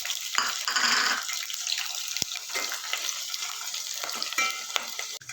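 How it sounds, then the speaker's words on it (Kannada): Chopped onion and green chillies fry in hot oil with a steady, close sizzle, joined by stirring scrapes and one sharp tap of a spoon on the pan. "ಹಸಿರು ಮೆಣಸಿನ್ಕಾಯಿನ ಎಣ್ಣೆಯಲ್ಲಿ ಸ್ವಲ್ಪ ಫ್ರೈ ಮಾಡಿಕೊಂಡು ಅದಕ್ಕೆ ಹೆಚ್ಚಿಟ್ಕೊಂಡಿರೋ ಈರುಳ್ಳಿ ಹಾಕ್ತಾಯಿದ್ದೀನಿ"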